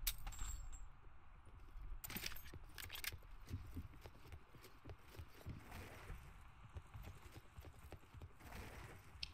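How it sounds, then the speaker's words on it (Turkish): Footsteps in the video game Call of Duty Black Ops 4 Battle Royale tap out as faint, uneven clacks over quiet game ambience, with a few sharper metallic clinks mixed in. "Ayak sesi geliyor çünkü."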